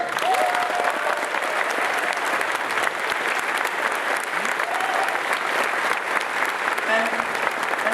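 Loud, continuous audience applause at the Eurofurence 2016 closing ceremony, a dense steady roar of many hands clapping throughout, with faint voices calling out here and there.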